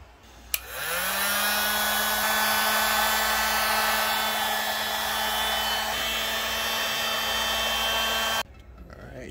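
Heat gun blowing steadily for about eight seconds to shrink heat-shrink tubing on an 18650 Li-ion battery pack, a constant loud fan whine with a low hum, starting abruptly and cutting off at the end.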